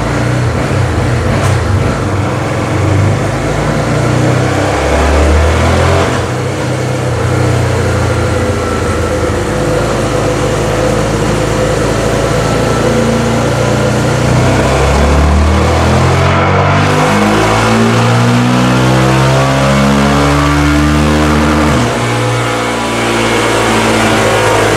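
A Honda CB 300 motorcycle engine revs hard on a dynamometer through repeated climbing runs, its pitch sweeping up and dropping back, loud and close with no talking.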